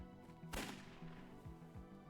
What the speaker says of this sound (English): Another gunshot.